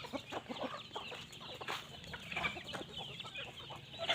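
Chickens for sale at a village farm cluck and squawk in a busy, faint flock, with scattered short calls overlapping throughout.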